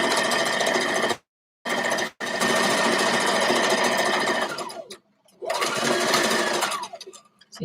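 Sewing machine stitching back and forth along a seam: loud buzzing runs of stitching, broken by brief stops at about one, two and five seconds where the direction changes.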